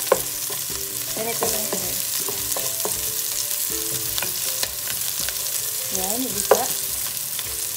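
Onions fry in a pan for a mussel soup, a steady soft sizzle broken by scraping stirs of a utensil, close up, while a voice speaks briefly.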